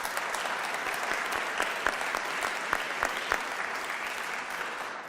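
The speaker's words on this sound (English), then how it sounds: "Leader Pelosi up here applauding furiously." Sustained applause from an audience at a political talk on mental health and addiction policy, steady dense clapping with a few sharper near claps standing out throughout.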